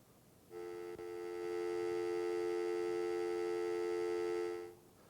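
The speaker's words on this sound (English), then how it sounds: "So this is dial tone." A steady electronic telephone dial tone hums alone for about four seconds, starting and ending abruptly, with a faint click early on.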